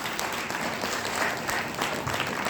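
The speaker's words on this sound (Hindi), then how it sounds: "तो एक जोरदार ताली आप सबके लिए।" An audience at a success-tips seminar in Jaipur breaks into loud, sustained applause, dense clapping from many hands filling the room without a break.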